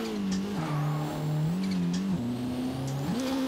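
A 1991 BMW M3 E30 drift build in Forza, engine droning and rising and falling with throttle and gear changes while the tires squeal and skid through a slide, close and steady throughout.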